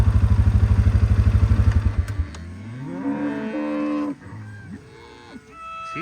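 A mother cow on a cattle farm lows in a long, drawn-out moo after a stretch of rhythmic engine chugging, followed by fainter clattering.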